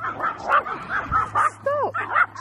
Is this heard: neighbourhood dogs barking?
yes